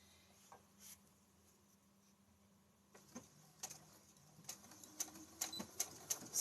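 Sewing machine running over a thick section of fabric, a series of uneven mechanical thumps and clicks that grow louder and more frequent toward the end, with no voices.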